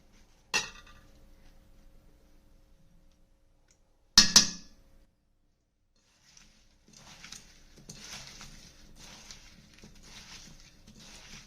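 Mango pickle being mixed with oil in a pot for traditional aam ka achar: two sharp clinks of a spoon against the pot, then a stretch of soft, wet scraping and stirring that continues steadily to the end, with no talking.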